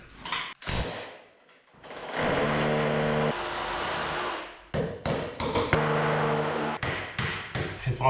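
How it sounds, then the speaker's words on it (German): Drywall rail being screwed tight during a plasterboard wall build: a power driver whirs in several bursts, some long and steady and some short, between clunks and taps, close and fairly loud. "Und jetzt schraube ich das Ganze hier auch mal wieder fest."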